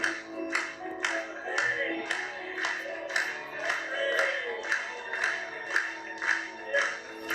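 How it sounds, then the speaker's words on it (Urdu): A church congregation clapping in praise, rhythmic even claps repeating about twice a second under musical tones, moderately loud and regular throughout. "آئیں ایک بار پھر سے اس کے لیے تالیاں بجاتے ہیں"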